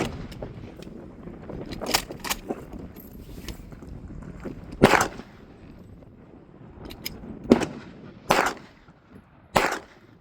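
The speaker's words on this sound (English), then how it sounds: "12 gauge slug shotgun." Several sharp, loud reports from a 12 gauge slug shotgun fired at backpack armor, spaced irregularly over quieter mechanical handling noise outdoors.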